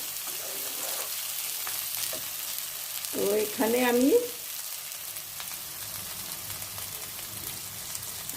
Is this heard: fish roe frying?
yes